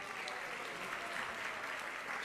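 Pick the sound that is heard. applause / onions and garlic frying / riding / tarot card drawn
applause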